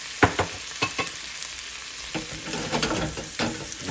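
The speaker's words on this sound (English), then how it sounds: "And you let those fry up." Fiddleheads frying with garlic in a pan, a bright close sizzle punctuated by several sharp stirring clicks and scrapes early on, then a steadier crackle.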